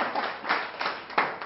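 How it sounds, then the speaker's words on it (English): Students in a classroom give a classmate a short, loose round of applause, a few scattered claps rising in small bursts for about a second and a half. "can we give her a round of applause?"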